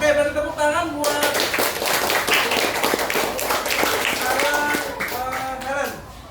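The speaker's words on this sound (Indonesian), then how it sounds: "beri tepuk tangan buat" Students in a classroom clap for a classmate named Helen, a burst of scattered, uneven applause with voices chattering and calling out around it, the clapping thinning as the talk continues.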